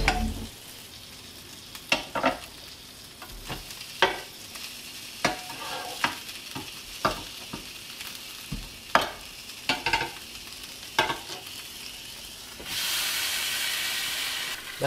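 Food fries in a pan under a low steady sizzle, broken by a series of sharp clacks and scrapes from a utensil at irregular intervals as pieces are flipped, then a louder rush of hissing steam near the end.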